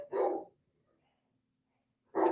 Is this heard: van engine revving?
no